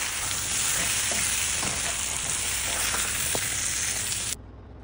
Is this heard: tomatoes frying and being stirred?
yes